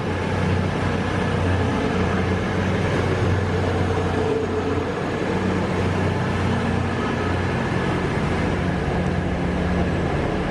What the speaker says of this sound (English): That's a train going to London St Pancras, and that's my train leaving